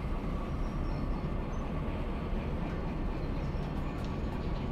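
A train rolls steadily through Derail Valley, a continuous dense rumble of railcars and wheels on track, loud and unbroken throughout with a faint high squeal near the end.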